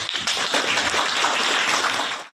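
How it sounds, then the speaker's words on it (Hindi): An audience stands and claps together at a Republic Day celebration at Srajan Academy branch 1, a steady, dense wash of applause lasting a couple of seconds before it cuts off sharply. "हम खड़े होकर ताली बजाएंगे"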